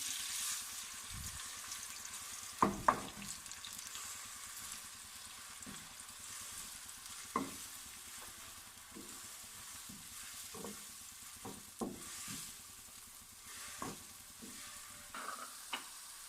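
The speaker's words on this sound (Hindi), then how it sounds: "लहसुन और प्याज को लाइट ब्राउन कर लिया।" Garlic and onion paste browns lightly in hot oil in a kadai, a continuous sizzle and crackle with repeated scraping and clinking from stirring throughout, no voices.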